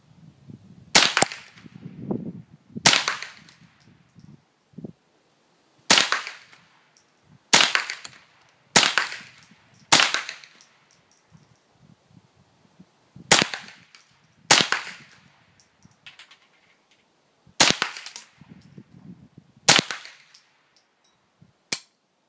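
Ten sharp, loud shots from a JW-14 rifle spaced a few seconds apart, each a sudden crack with a short ringing tail over quiet outdoor background.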